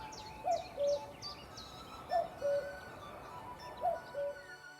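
A common cuckoo calls its two-note "cu-coo" three times at a steady pace, moderately distant, with other birds chirping faintly in the background.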